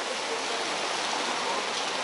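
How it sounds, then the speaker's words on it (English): Pouring rain in Istanbul makes a steady, dense hiss close by, continuous and even with no voices. "But you can see it is pouring rain right now."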